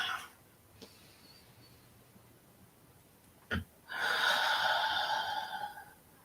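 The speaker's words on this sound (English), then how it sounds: "take a deep breath with me" A slow, deep breath, a faint inhale followed by a louder, longer breathy exhale of about two seconds, heard close up and alone after a brief sharp sniff.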